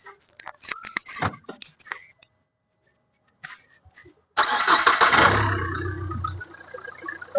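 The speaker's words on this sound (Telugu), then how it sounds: "ఇంజన్ కూడా స్టార్ట్ చేపించి చూస్తాను చూడండి." Renault Duster RXL 2015 diesel: a few clicks and handling sounds, a short pause, then the engine cranks and catches into a loud, steady idle close by.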